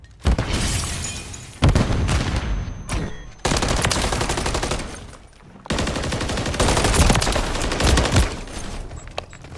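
Dense video-game gunfire in Call of Duty MW3: sustained automatic bursts and rapid shots with booming impacts, loud and continuous with brief gaps, no talking.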